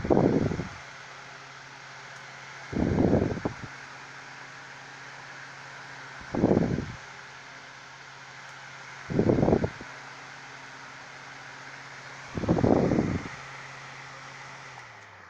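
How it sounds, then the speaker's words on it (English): A Holmes Blizzard 7-inch oscillating desk fan runs on its high setting, giving a steady airy whoosh with a low motor hum underneath. Five short louder bursts of wind come at regular intervals as the oscillating head sweeps past the microphone. "my Holmes 7-inch oscillating table fan"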